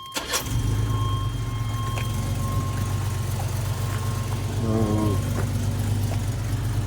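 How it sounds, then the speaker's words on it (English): A Chevrolet S10 pickup, already warmed up, cranks briefly and fires, then settles into a steady, loud, close idle with a constant low rumble and some faint whining tones above it. "let's fire this thing up."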